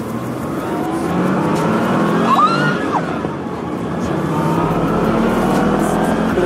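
A 30-year-old car accelerating hard along a straight road, its engine note loud, close and rising steadily under the throttle, with faint talk in places.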